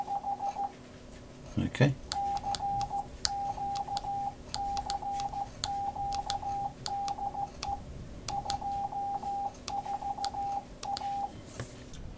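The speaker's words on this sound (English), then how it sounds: "So you've got dashes, dots." A Datong D70 Morse tutor sounds steady runs of Morse code beeps, short dots and longer dashes in a quick rhythm, clear and close, after a brief spoken word and a clunk.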